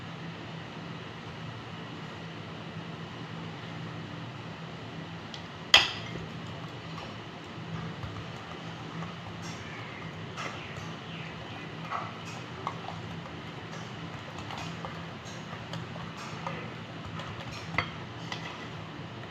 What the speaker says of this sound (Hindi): इसे हम 3 भाग में थोड़ा थोड़ा करके इसमें डाल के मिक्स करेंगे